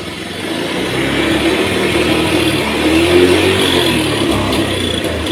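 A Honda Beat scooter engine, running with a suspected clogged injector, revs steadily and loudly as the throttle is opened slowly, holding a continuous drone without pauses.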